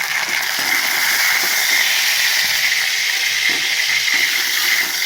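Hot tempering poured into freshly cooked milk porridge made with herbs gathered from the garden, giving a steady, close, bright sizzling hiss that holds evenly for several seconds with no talk over it.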